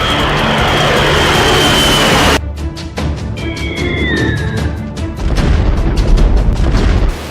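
Prithvi-2 missile test firing outdoors, opening with a loud sustained roar and whine that cuts off abruptly, followed by rapid crackling bursts and booming rumble with a brief rising-falling tone, all loud and close.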